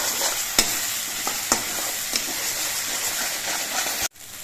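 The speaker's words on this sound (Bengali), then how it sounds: "চিনি দিয়ে নেড়ে চেড়ে মিশিয়ে নিতে হবে।" Sugar being stirred into a spice masala frying in oil, a loud continuous sizzle broken by a few sharp scraping knocks of the spoon against the pan.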